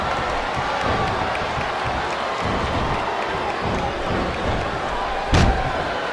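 A wrestling arena crowd in Smackdown vs Raw 2008 roars with steady, sustained cheering, a sharp slam-like impact cutting through near the end.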